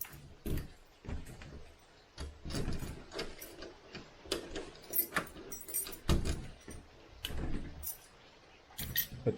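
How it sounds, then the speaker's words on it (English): Keys jangling and a lock mechanism clicking and clacking while a door is locked in a house, a series of close metallic rattles and snaps with short pauses between them. "Lock the door."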